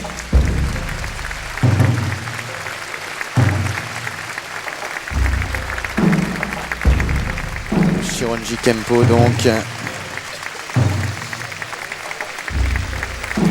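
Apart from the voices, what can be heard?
audience applause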